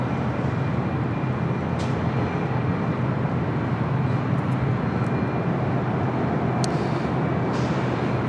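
Airliner at LAX airport, a loud continuous jet engine roar sustained throughout, heard from outdoors at a distance with no speech.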